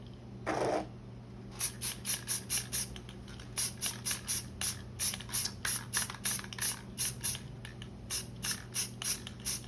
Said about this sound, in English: Just spray this down.